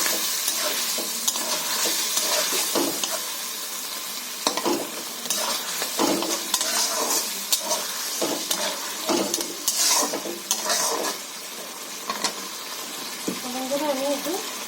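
Fried potato and eggplant being stirred into a sizzling spice masala in oil while cooking a tilapia curry, with steady frying hiss and repeated clinks and scrapes of the spoon against the pan, close by, and faint voices in the background.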